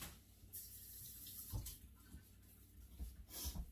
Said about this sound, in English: Rinse it off again.